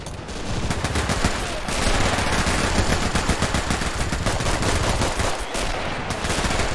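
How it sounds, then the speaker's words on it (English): Sustained machine gun fire rattles continuously throughout, dense bursts of gunfire from a World War II Eastern Front battle in the strategy game Men of War: Assault Squad, loud and steady with no talk over it. "Oh damn, those guns have turned on us now."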